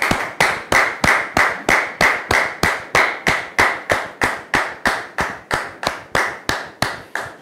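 A television studio audience claps in steady unison to welcome a guest, loud sharp beats repeating evenly about three times per second, alone with no talk.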